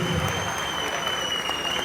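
A large audience claps steadily and densely at a film pre-release event held at Shilpa Kala Vedika, with the applause sustained and loud throughout.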